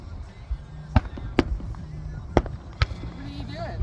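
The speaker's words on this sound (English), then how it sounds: "Easy fireworks, aren't they?" Small fireworks pop and crack outdoors in a snowy setting, about five sharp mid-distance bangs spaced irregularly, with people talking in between.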